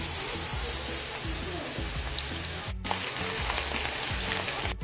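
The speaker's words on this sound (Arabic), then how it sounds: "الزيت عمل تش، يلا بقى نقلي البصل." Onions sizzle in hot oil in a home kitchen pan for Egyptian koshari, a steady dense crackle that holds throughout with a couple of brief dropouts.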